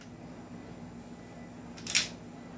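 A racing pistol slide is racked once, a single sharp metallic clack close by, standing out briefly from a steady low background hum, with no talking over it.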